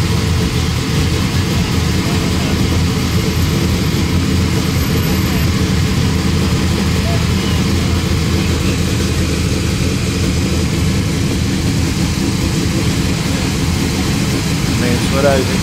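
A big high-horsepower car engine rumbles steadily and loudly at close range throughout, a constant deep drone at a car show gathering.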